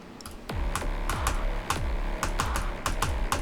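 Rapid computer mouse or keyboard clicks while playing Geometry Dash, crisp close taps landing in a steady rhythm roughly every third of a second over low background game music.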